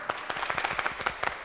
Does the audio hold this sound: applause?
yes